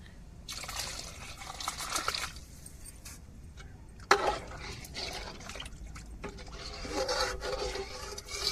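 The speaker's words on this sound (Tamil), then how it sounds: "இப்போ தேங்காய் அரைச்ச தண்ணியை சேர்த்துக்கிடுவோம்" Ground coconut water is poured into a pot of curry for a kofta kuzhambu, a steady splashing trickle with rubbing and scraping sounds in short bursts, close and moderately quiet.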